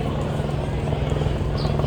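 CareFlight medical helicopter coming in low over the left field wall of a ballpark, a steady loud rotor drone with engine hum filling the whole stretch, with a voice announcing over it.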